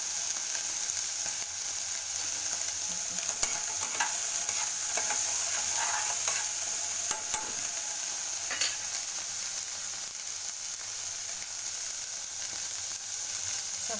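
Chaat ingredients fry in a hot pan with a continuous sizzle, broken by scraping, clinking strokes of a spatula stirring them throughout.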